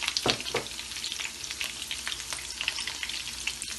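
Curry leaves for a dal tempering sizzle and crackle steadily in hot oil, a continuous close frying hiss with occasional pops and stirring, no talk.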